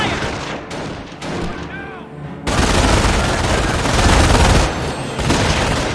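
Battlefield gunfire in the WWII strategy game Company of Heroes, Normandy campaign at Sottevast: sharp rifle and machine-gun bursts, then a loud, continuous roar of heavy firing and explosions filling the second half.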